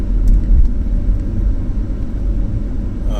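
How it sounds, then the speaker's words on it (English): Heard from inside a 2015 BMW 328i, a deep, steady engine rumble with low whir runs under smooth driving as the 8-speed automatic changes gear, with no speech. "you can feel the shift of the engine, the gear, the 8-speed automatic gear change"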